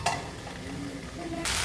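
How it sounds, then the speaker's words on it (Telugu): Tomatoes with okra, turmeric and salt are stirred in a cooking pan, a close continuous sizzle with soft scraping and a louder hiss swelling at the end. "ఇప్పుడు మొత్తం ఒకసారి కలుపుకొని మూత పెట్టేసుకొని ఉడికించుకోవాలి."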